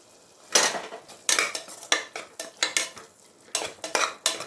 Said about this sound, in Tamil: இது நல்லா வதக்கிக்கோங்க. இதில் முட்டை வறுத்த மசாலா இருக்குது,